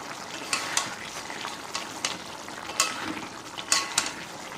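Meat cooks in a pan to a deep red, frying with a soft steady sizzle while a utensil stirs and scrapes at irregular intervals, close and fairly quiet.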